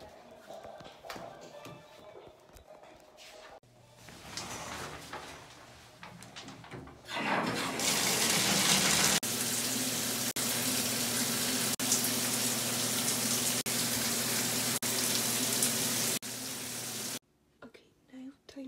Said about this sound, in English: Now let's go shower.